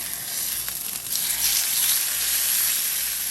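A thin steak sizzles steadily in a pan over medium-high heat just after being flipped, a loud bright hiss that swells slightly after a brief dip and then holds even.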